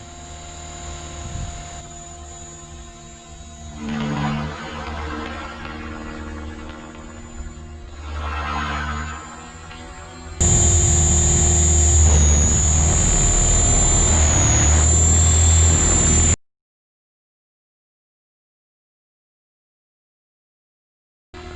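A Synergy 516 RC helicopter flies overhead with a steady whirring rotor and motor whine, swelling as it passes nearer, then cutting to a louder close buzz before dropping to silence.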